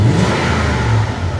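A pickup truck with a bad catalytic converter revs up loudly and steadily right after firing up, a near, continuous engine roar with rising pitch and no voices.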